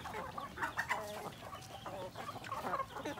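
Native chickens clucking close by on a Philippine farm, a steady run of short overlapping clucks and calls with no talk.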